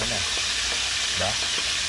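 Cooking oil sizzles and crackles loudly up close in a pan while food fries, a dense continuous hiss with scattered splattering pops throughout.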